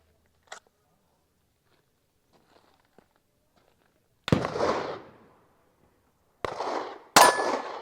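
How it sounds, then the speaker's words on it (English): Suppressed 9mm pistol firing MagTech 150 grain subsonic ammunition at a range: three loud, sharp cracks with short decaying tails, spaced a couple of seconds apart, after a near-silent stretch with a faint metallic click. "I am shooting MagTech subs, 150 grain 9mm"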